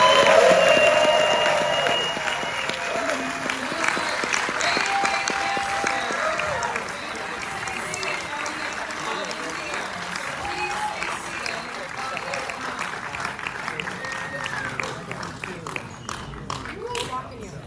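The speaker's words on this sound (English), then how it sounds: "So, round of applause." A theater audience at a film Q&A applauds steadily, dense clapping and scattered cheers filling the room and slowly thinning out, with voices mixed in underneath.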